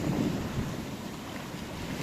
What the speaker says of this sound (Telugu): ఇలా అలల శబ్దం వినుకుంటే ఎంతసేపు అయినా గుర్తొచ్చు కదా